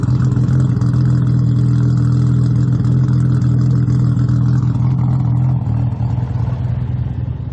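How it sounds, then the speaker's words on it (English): A Toyota Supra engine runs loudly through an HKS aftermarket exhaust, a deep steady burble that settles lower toward the end. "still sounds fantastic through an HKS exhaust"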